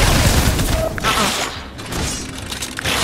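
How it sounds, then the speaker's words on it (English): Grenades blow up in a Fortnite match, a dense burst of loud booms and shattering debris with a brief lull, then further blasts rumbling in close and heavy. "the grenades they do a ton of damage, just a ton"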